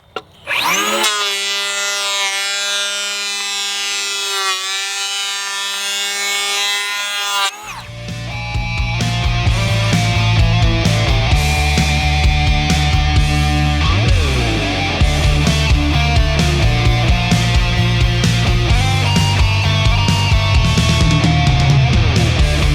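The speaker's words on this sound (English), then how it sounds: "let's make a little sawdust. As you can see, this planer right here just has lots of power." Ridgid Octane 18-volt cordless 3.25-inch hand planer cutting wood: the motor whines up alone at high pitch, then bites into the board with a loud, rough, continuous planing roar that persists to the end.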